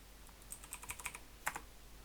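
A short burst of quiet keystrokes on a computer keyboard, a handful of light clicks in an uneven rhythm, close by.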